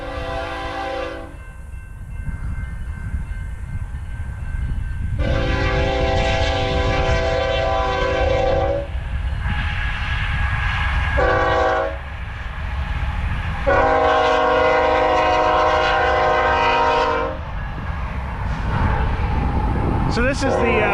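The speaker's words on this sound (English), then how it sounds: "Probably going to get a train whistle here any second." A BNSF freight train rolls along the main line, its horn sounding in several long blasts over a loud, steady rumble of wheels and cars passing close by.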